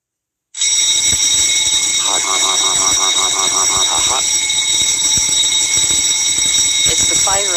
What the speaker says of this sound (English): It's the fire alarm that goes off.